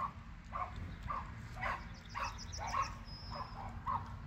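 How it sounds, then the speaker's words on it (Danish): A dog barks repeatedly at a moderate distance in short, evenly spaced yips over a steady low rumble of rain and passing traffic, with no talking. "det er ikke min hund, I kan høre"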